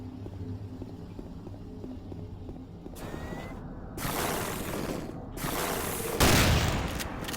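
Gunfire in the first-person shooter Doom 3 plays as loud, dense bursts of rapid shots with hard-edged blasts. Quieter ambient game noise comes before the firing starts partway through.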